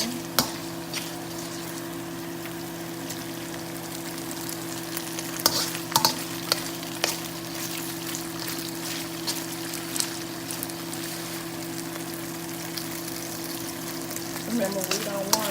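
Beef sizzles in a skillet for spicy beef and broccoli, a steady frying hiss over a constant low hum, with scattered clicks and pops from stirring or utensils against the pan.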